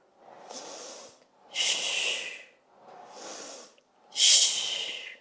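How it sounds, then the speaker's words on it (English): Heavy breathing during a Pilates reformer workout: four long, forceful breaths close to the microphone, alternating softer inhales with louder, airier exhales in a slow, regular rhythm. "Really breathing through it."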